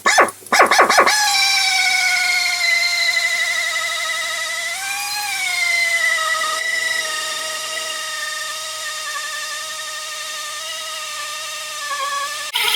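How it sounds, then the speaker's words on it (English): A hand-turned cutting bit grinds steadily inside an exhaust manifold hole on a Ford Power Stroke engine, a sustained close tonal whine with slight pitch wavers, preceded by a few quick sharp clicks at the start. "I'm going to turn it by hand again like I did before."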